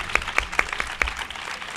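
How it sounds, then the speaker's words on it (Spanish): Studio audience at a Spanish comedy show gives sparse applause, a handful of distinct claps ringing out over a low room murmur for under two seconds. "Un aplauso para Nacho, por favor."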